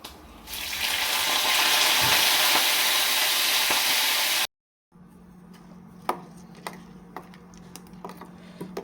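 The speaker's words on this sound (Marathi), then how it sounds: "मी फक्त ह्याच्यामध्ये मोहरी टाकली आणि एक लाल मिरची त्याची कट करायची आणि कढीपत्ता" Mustard seeds, a cut red chili and curry leaves hit hot oil in a tempering: a loud, dense sizzle, a brief silence, then sparse sharp crackles and pops over a quieter fry.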